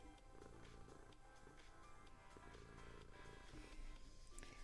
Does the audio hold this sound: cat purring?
yes